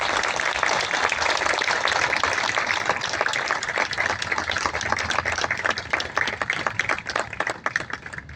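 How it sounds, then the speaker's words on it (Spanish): An audience at a tribute event at a national comics festival gives strong, dense applause to regional artists, a loud continuous patter of many hands with no talking over it. "les pido un fuerte voto de aplausos para estos artistas regionales."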